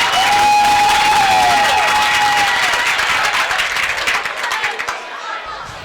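A high school football crowd at a Corbin vs South Laurel game claps and cheers loudly along with the cheerleaders, the roar fading gradually, with a whistle near the start and a commentator talking over it.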